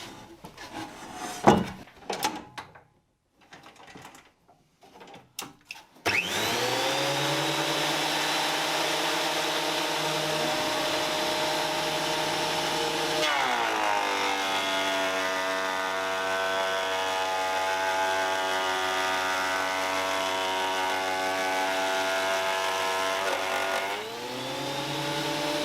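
Metabo DH330 thickness planer planing a board: after a few clunks and handling knocks, the machine spins up to a loud sustained whine, dipping in pitch as the wood feeds through the cutter, then recovering.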